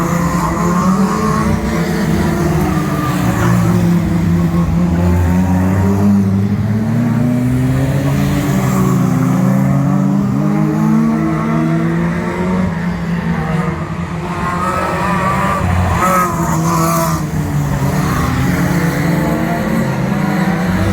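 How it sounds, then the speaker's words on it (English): 1400cc stock rods race around a track at Cowdenbeath, Scotland, sliding on an oil slick, a dense, loud roar of several engines revving and whining up and down throughout with no break. "There was a bit of an oil slick there. Cars, it's sliding all over the place."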